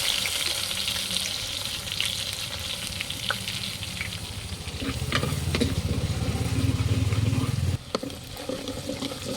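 Garlic sizzles loudly in hot cold-pressed gingelly oil over a wood-fired stove after mustard and fenugreek seeds, with a steady crackling fry that grows denser midway and then briefly dips near the end.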